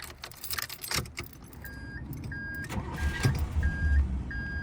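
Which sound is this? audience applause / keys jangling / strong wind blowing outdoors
keys jangling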